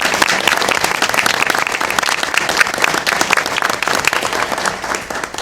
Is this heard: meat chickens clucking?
no